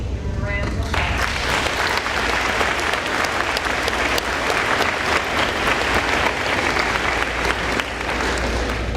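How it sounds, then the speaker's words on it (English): Sustained, dense applause fills a graduation award ceremony hall from start to finish, loud and steady with no pauses, many hands clapping at once. "Give them a round of applause."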